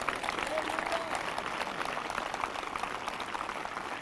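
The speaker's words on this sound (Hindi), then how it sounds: "जो जिंदा हैं वो ताली बजाकर धन्यवाद कर रहे हैं।" Congregation at a Sunday evening church meeting applauding, a dense, steady wash of clapping from many hands that holds loud and even throughout.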